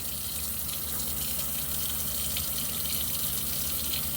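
Tap water gushes steadily into a sink while pork intestine is rinsed and unfolded under it, making a continuous close splashing rush with slight variations.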